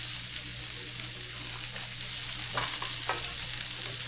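A steak burger patty on a grill gives a loud, steady broadband sizzle throughout, with a low hum beneath and a couple of faint clicks.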